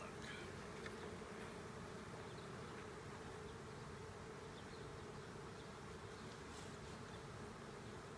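Bees buzz around an open hive as it is inspected on top of the first brood box, making a dense, continuous drone that stays faint and even for the whole stretch, with no voices.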